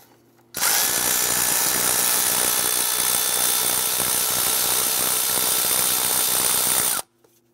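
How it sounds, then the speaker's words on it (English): A power tool whirs steadily and loudly for about six seconds, starting and stopping abruptly, while 8mm bolts are loosened on the intake of a 2011-2018 Ram 1500 pickup. "Now there's a series of 8mm bolts around the perimeter of our intake. I'll go ahead and loosen and remove these."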